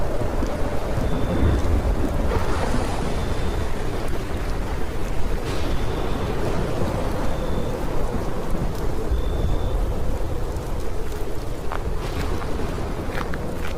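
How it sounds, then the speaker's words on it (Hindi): Loud thunder rumbling over heavy, steady rain in a cartoon story, the downpour continuous throughout with rolling booms and sharp cracks breaking in at intervals. "देर रात मौसम खराब हो जाता है और बहुत तेज बादल गरजते हैं।"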